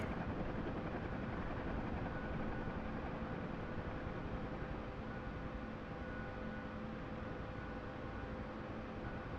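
A UH-1H Huey helicopter's rotor in a DCS flight simulator game roars in a dense, constant wash of noise with a steady thrum, loud and unbroken from start to finish.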